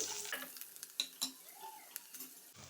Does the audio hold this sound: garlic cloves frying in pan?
yes